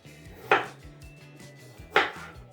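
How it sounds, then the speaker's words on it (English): A knife chops food into big pieces on a board, two sharp, close, loud chops about a second and a half apart over a low background hum. "But about 3/4 of that I'm cutting into big pieces."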